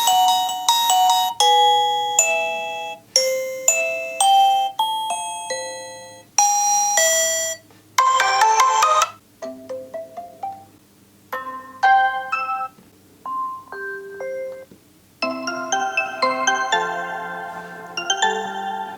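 A series of distinct electronic chimes and alert tones from a Reolink Battery Doorbell smartphone app, one after another with short gaps, each a different melody, clear and close.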